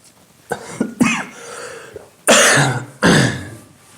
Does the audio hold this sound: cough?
yes